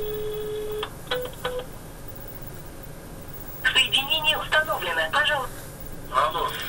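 A ringback tone pulses in short bursts on a phone line, then a voice comes through over the speaker, thin and tinny.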